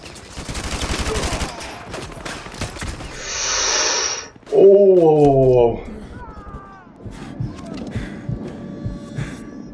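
Machine gun fire in Call of Duty Modern Warfare 2 Remastered, a rapid burst of loud close shots at the start, followed by other game effects, a whooshing swell and a sharp wavering tone, with a voice talking over parts.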